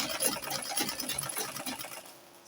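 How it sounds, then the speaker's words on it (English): A sewing machine runs a straight line of stitching along the lower part of a side-gored, V-shaped flared gown, its fast, even needle clatter continuing close and steady without a break. "I will run a straight line stitch now to down part of my dress"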